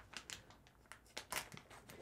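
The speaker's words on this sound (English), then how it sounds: "this is definitely a pretty decent quality plastic bag that they've stuffed this in" Sturdy plastic bag wrapping a metal photo print, crinkling as it is handled: quiet, close, irregular crackles and rustles in quick bursts over about two seconds, no speech.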